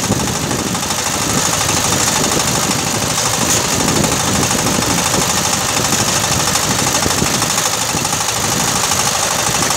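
Two-wheel tractor engine pulling a ripper through a field, a loud, close, rapid knocking chug held steady and unbroken for the whole stretch.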